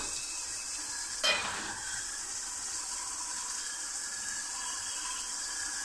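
Green chillies sizzle in a hot frying pan while a vegetarian potato, dal and chana dish cooks, a sharp burst as they hit the oil, then a steady bright crackle continuing alone.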